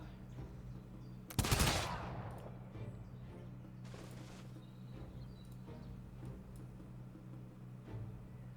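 Unit gunfire in the Humankind strategy game: one sharp, loud burst of shots that rings out and decays, then faint scattered pops over a steady low background hum.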